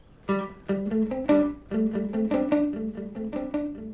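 Electric guitar through a Kokko echo delay pedal playing a quick run of picked notes, each note trailed by soft repeating echoes that blur into the next. No one speaks.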